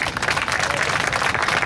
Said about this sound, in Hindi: मैं आप सबको बोलता हूँ इनके लिए एक ताली आप बजाइए